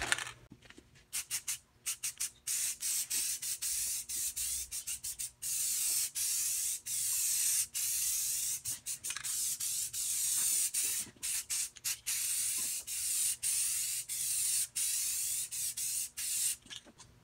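Rust-Oleum color shift spray paint hissing from an aerosol can over a black base coat, in a long series of close, steady bursts separated by short pauses.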